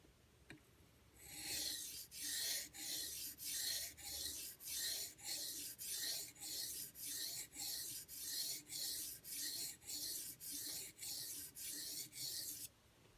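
A knife is drawn across a 700 grit Suehiro whetstone in about sixteen steady, rhythmic strokes, each a close, gritty hissing scrape that comes with a regular pulse and has no talk over it.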